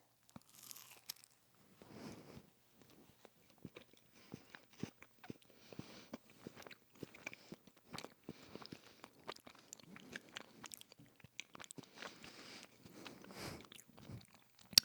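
Close, crisp crunching bites followed by steady chewing of a crunchy snack, irregular clicks and crackles repeating for about fifteen seconds with no talk over them.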